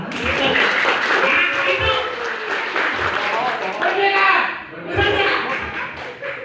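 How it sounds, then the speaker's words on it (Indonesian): An audience at a business presentation claps through the whole stretch, the applause partly buried under someone speaking loudly over it, with a few brief dips in the clapping. "Tugas Bapak Ibu tinggal tepuk tangan."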